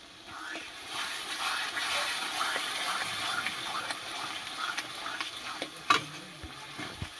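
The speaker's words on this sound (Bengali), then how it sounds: "আমি যে দইটা মিশিয়ে রেখেছি জলের সঙ্গে, বা দইটা দিয়ে দেবো" Yogurt mixed with water poured into a hot pan with oil and bay leaf sets off a soft, crackling sizzle with stirring and a few light utensil clinks.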